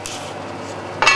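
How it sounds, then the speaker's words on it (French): A metal lid set onto a pot of boiling Provençal daube, a short clink right at the start and a brighter clattering knock near the end, over a quiet hiss. "on met le couvercle"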